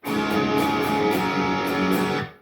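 Guitar chords strummed in a short strum, rest, strum, strum pattern, a few ringing strokes with brief gaps, then the sound is cut off.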